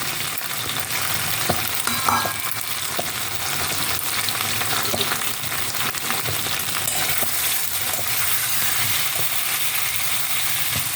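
Boiled colocasia (taro) with onion, salt and chili powder frying in a pan makes a loud, constant close sizzle. Scattered scraping and small metallic clinks from stirring run through it, and there is no speech.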